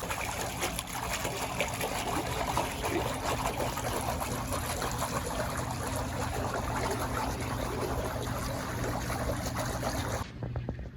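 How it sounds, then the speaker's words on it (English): A marina de-icer churns and splashes water to keep ice away, giving a steady, loud, continuous wash of splashing and bubbling that runs unbroken almost to the end with no one speaking. "it's loud because of how it splashes the water, but it'll keep the ice away."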